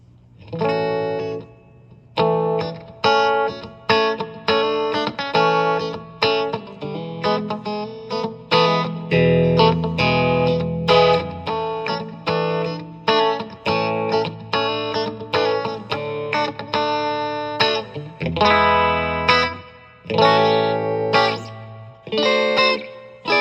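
Clean electric guitar, an early-90s Peavey Predator Strat between bridge and middle pickups through a Nashville-style pedalboard, playing chords and melodic phrases with chorus-like shimmer and reverb, a steady strummed pattern throughout without voices.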